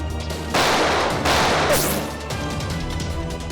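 Bursts of rapid gunfire crackle loudly in two dense volleys during a scene in a Hindi TV crime drama, then fade into a lower rumble of background noise.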